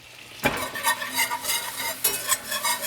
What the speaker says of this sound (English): And we're going to whisk this in.